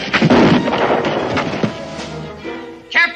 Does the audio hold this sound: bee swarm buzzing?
no